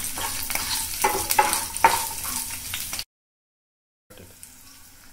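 Ginger, garlic and green chilli fry in oil, crackling and hissing loudly up close with stirring scrapes, then cutting to brief silence before a quieter sizzle returns.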